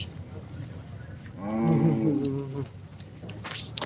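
A single low, drawn-out moo from a native cow at a cattle market in Coimbatore, fairly close, rising and fading over about a second amid faint outdoor background noise.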